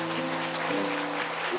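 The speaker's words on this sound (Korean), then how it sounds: "박수로 축하해 주시면 감사합니다." Steady applause from a congregation filling a large church, continuous clapping with a faint sustained organ-like tone underneath.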